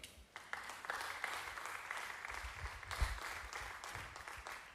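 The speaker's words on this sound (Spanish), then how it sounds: "Un aplauso para él" A church congregation applauds during a sermon with steady, dense clapping at a fairly quiet level. The clapping swells slightly partway through and fades a little toward the end.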